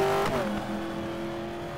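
Race cars in a racing video game slow into the pits, their steady engine drone sliding down in pitch as they decelerate, loud and continuous with no talk.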